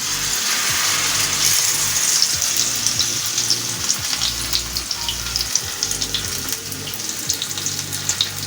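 Masala-coated fish fries in hot oil with a loud, steady sizzle and crackle, broken by a few scraping stirs and clatters of utensils in the pan.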